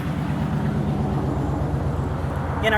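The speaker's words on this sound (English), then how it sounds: "I've got traffic going by." Vehicle traffic passes along a road in a quiet rural neighborhood, a steady low rumble of engines and tires heard at a moderate distance, continuous throughout with no voices.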